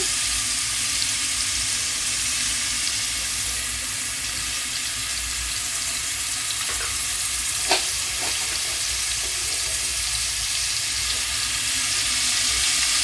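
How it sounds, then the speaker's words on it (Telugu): Onions frying in a pan for a homemade chicken curry, a steady close sizzle and crackle that runs throughout, with a few brief clinks partway through. "ఆనియన్స్ కాస్త వేగాలి."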